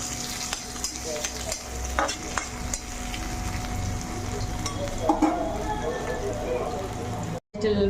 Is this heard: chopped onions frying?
yes